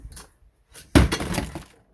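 Small hard candies clatter onto a floor in one sudden burst of clinking, scattering impacts that rattle on briefly before settling, close by, with a few faint knocks just before.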